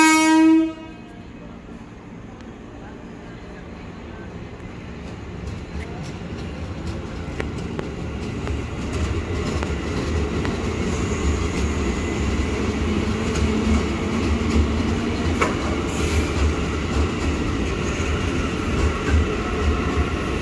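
A KRL Commuter Line train horn sounds briefly at Manggarai Station, Jakarta, then the low rumble and clatter of the train on rails builds steadily as it approaches, after a platform announcement in Indonesian.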